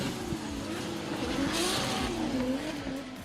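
A drift car engine at a D1GP Malaysia round, the driver easing off the throttle so the engine drones at a steady, moderate pitch with faint tire hiss, loud and continuous with no talking.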